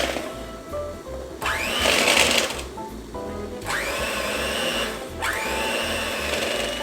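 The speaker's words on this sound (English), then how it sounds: "I have my hand mixer." A hand mixer runs at full speed through no-bake chocolate cheesecake filling, giving a steady loud motor whine that rises and falls in pitch as it works the mixture, with brief dips between bursts and no talk.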